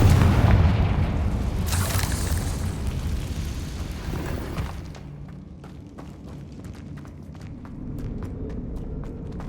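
Confringo blasting spell explosions in the Hogwarts Legacy video game, heavy booming blasts filling the first half, then fading into crackling debris and scattered sharp impacts with a lower rumble underneath; no talk.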